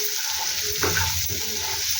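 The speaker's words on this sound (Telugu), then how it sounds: "ఈ ఉప్పు, కారం, పసుపు అంతా బాగా బఠానీలు పడతాయన్నమాట ఇలా ఫ్రై చేసుకుంటే" Green peas frying with salt, chili powder and turmeric for a methi matar masala, a steady close sizzle with a few soft stirring scrapes in the pan.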